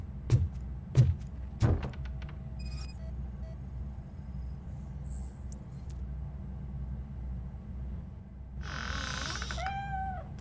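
A cat meows several times, first as a few short close calls and then as a longer drawn-out yowl, in the video game Robocop Rogue City. A steady low rumble runs underneath and brief electronic tones are heard.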